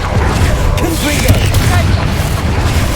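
Booming explosive spell blasts from the Confringo curse in Hogwarts Legacy, several dull thuds in quick succession over a dense, busy game soundscape with faint voices mixed in.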